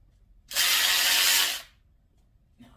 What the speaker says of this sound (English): Just going to go with a wee little shallow socket.